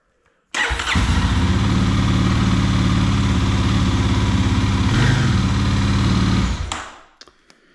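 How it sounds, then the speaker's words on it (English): A 2024 Kawasaki KLX300 dirt bike engine cranks and catches after a battery replacement, then runs at a steady, loud idle for several seconds before shutting off, with no talking. "the last step is to make sure the bike actually starts"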